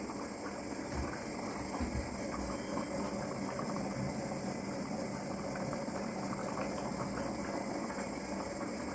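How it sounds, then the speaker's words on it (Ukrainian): Steady bubbling and simmering of goulash with carrots and dumplings in a pot, a continuous low rumbling churn with no voices, close and moderately loud throughout. "Все бурлить, все кипить."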